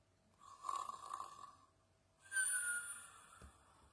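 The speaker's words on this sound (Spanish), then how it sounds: "Ronquidos." Snoring of a dog in a children's story, two drawn-out, rasping snores close up, each swelling and fading, with a short pause between them and no talk.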